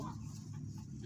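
Chicken clucking softly nearby, a brief run of low, rapid clucks, faint and short.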